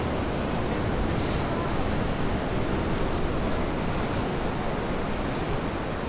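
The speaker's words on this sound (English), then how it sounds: "I'm at Chonsak Resort at a beach, I forget the name on, but look at this." Waves breaking on a beach at Koh Samet island, Thailand, give a steady, loud broadband wash with no distinct breaks, close and continuous throughout.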